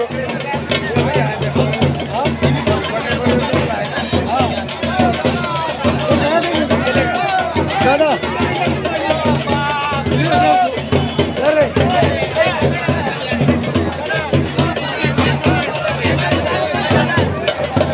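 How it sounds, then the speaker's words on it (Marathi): A large crowd packs a wrestling arena at a village kushti dangal, a continuous dense babble of many voices close around, with someone speaking over the hubbub. "बघा आखाड्यामध्ये भरपूर गर्दी झालेली आहे"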